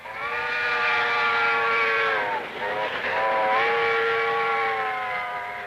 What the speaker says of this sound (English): that train whistle that you just heard and saw